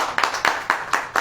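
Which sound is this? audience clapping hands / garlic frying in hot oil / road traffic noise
audience clapping hands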